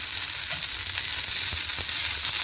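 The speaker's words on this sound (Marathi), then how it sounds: "त्यासाठी मिरच्या भाजून घेते।" Green chillies roast in a pan with a loud, constant, close sizzling hiss and a few faint stirring touches, with no one talking.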